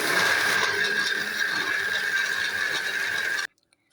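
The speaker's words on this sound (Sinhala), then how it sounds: "ඊළඟට පියන හොඳින් වසා අපි බ්ලෙන්ඩ් එකේ ඔන් කරමු" A kitchen blender whirs steadily through banana smoothie with ice cubes, a loud continuous motor drone with gritty churning that cuts off abruptly near the end.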